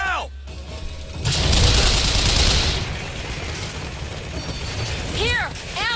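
Automated turret gunfire in the shooter game Bioshock Infinite, a loud sustained burst of rapid shots that swells and then fades, with game voices shouting over the combat.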